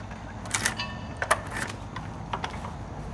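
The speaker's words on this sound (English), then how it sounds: "For that, I'm going to use the straight draw shave, and I'm able to take that right down and make the edge real smooth." A straight draw shave pulled along a wooden edge by a cooper, giving a few scattered scraping, creaking strokes with short quiet gaps between them, close and fairly quiet.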